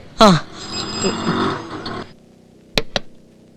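A telephone bell rings in two short bursts near the end, loud and close, after a stretch of voices and other busy sound.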